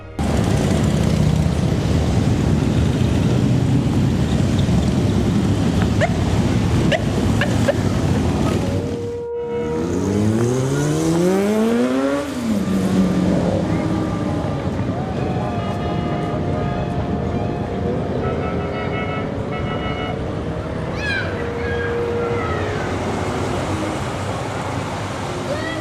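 Many motorcycles gathered for a charity Halloween run from Boston to downtown Salem, a loud continuous rumbling roar with revving engines rising and falling in pitch as bikes pass close by.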